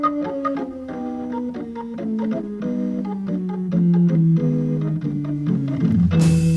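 Hammond B3 organ runs a quick jazz line of clipped, bright notes over a descending bass, close and fairly loud with no talking, ending in a sudden noisy swell.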